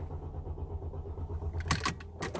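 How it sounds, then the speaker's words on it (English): A car's engine cranks repeatedly without catching, a steady low rhythmic churn throughout with a few sharp clicks and rattles near the end, close by and fairly quiet; a suspected fuel pump fault is involved. "Car cranks, but it doesn't start."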